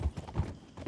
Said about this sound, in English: a lot of horses. Watch out.